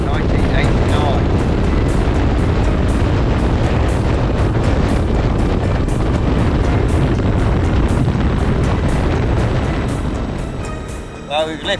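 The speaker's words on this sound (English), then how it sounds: "Bit of a chilly wind though." Loud, continuous buffeting of chilly wind battering a microphone during a motorcycle ride in Iceland, a roaring rumble that holds steady for most of the stretch before easing near the end.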